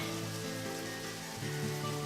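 Rain falling in the video game Deadly Premonition, a steady wash of patter and hiss heard alongside low, shifting background music tones, with no voices.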